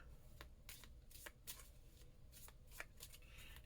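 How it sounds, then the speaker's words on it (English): A deck of cards is shuffled up close in quick, crisp riffling bursts, about a dozen sharp flutters in a row with no talking. "So I'm just shuffling up our cards to see what we need to know for the week."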